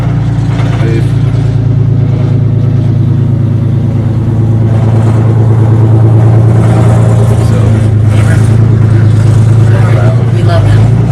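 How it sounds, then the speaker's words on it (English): A loud truck engine idles with a deep, steady rumble throughout, and a voice talks over it. "We love him. Even in his loud truck."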